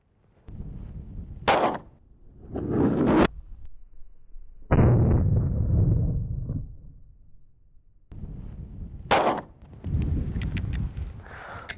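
A 9mm round is fired at helicopter cockpit armor plating outdoors; several loud, sharp reports boom out, each trailing a short rumbling echo, with gaps of near silence between them.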